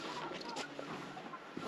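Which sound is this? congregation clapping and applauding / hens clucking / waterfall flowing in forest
hens clucking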